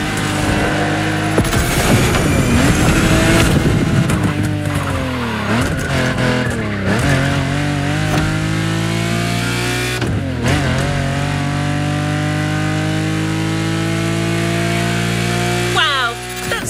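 Lamborghini race car in The Crew Motorfest video game, its engine loudly revving up and down through gear changes, with tire squeals and skidding throughout.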